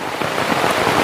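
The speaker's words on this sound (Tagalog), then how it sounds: "Ang lakas ng ulan" Heavy rain pours down in mountain countryside, a loud dense steady hiss of drops drumming on surfaces, continuous and close with no talk.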